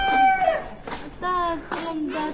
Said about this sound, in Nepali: कुखुरा चाहिँ यहाँ छ है